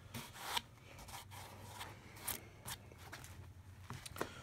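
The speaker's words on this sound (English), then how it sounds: "I'm going to use the side of this gouge." A gouge shaving the spruce top of a violin as it is arched, giving soft, faint scraping strokes in uneven bursts, worked from different directions across the grain with no speech.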